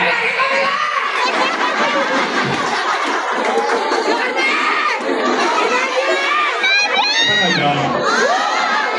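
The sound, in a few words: crowd of people shouting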